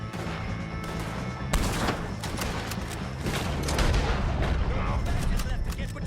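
Gunfire erupts during a shootout in Red Dead Redemption 2, with dense bursts of shots and booms under game music and voices, growing heavier toward the end.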